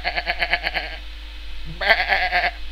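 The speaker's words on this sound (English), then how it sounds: "Sheep!" Sheep in the Minecraft Sky Grid video game bleat in a rapid series of short, close, nasal calls, followed after a brief pause by a louder, longer bleat.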